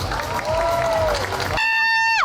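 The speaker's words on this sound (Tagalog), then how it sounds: "Isang masigabong palakpak! Sa palakpakan po!" Crowd cheering and clapping at an evening event for a fashion icon, loud and continuous, with a bright sustained synth-like tone rising over the end.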